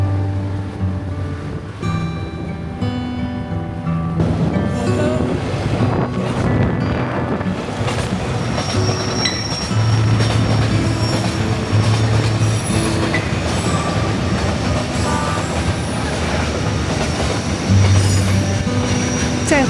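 A freight train rolls past on the edge of a town on the way to My Son, with loud, steady rumbling of railcars, clacking wheels and intermittent squealing throughout, close by and with some wind buffeting.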